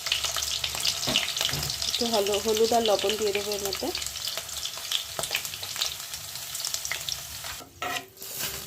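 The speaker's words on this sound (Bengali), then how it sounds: "তেলটা গরম হয়ে গেল, এবার আমি এখানে আলুটা ভেজে উঠিয়ে রাখছি।" Potatoes fry in hot mustard oil with a continuous close sizzle and occasional stirring clatter. Someone speaks briefly partway through, and a short splash or clank comes near the end.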